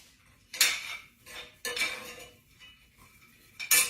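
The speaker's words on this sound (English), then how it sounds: "Let me stir those pecans again" Pecans roasting in a pan are stirred with a utensil, giving three bursts of scraping and clattering, close and fairly loud, with quiet gaps between them and no talk.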